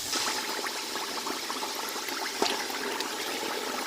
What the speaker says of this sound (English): We're frying our chicken here.